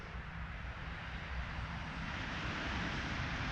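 An RC Predator model airplane flies at wide open throttle, giving a steady, buzzing engine drone that holds constant and fairly close throughout.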